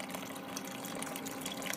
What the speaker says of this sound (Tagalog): Dayon karon gibutangan na akong tubig.